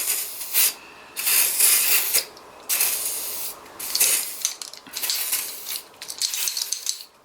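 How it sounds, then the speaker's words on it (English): Bursts of WD-40 spray lubricant hissing into the cylinder bores of a BMW M50B30 engine during a build, several short and longer sprays with brief pauses between, close and fairly loud. "So you need WD-40"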